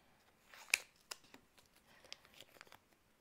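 Scissors cut pieces of paper for a beach cottage craft project, giving quiet, close snips and crisp rustles, with one sharp cut standing out among a handful of softer clips.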